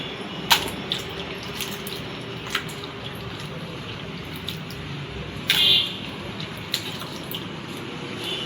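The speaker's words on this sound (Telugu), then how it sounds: "అలా మొత్తం అన్ని ముక్కలన్నీ అలా కడిగేసుకొని" Raw banana pieces are washed in water, with scattered close splashes and drips and one brief sloshing swirl over a quiet background.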